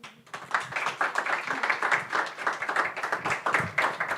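An audience at a panel talk on political prisoners claps together in a room, producing a steady, dense patter of hand claps that carries on for several seconds without speech.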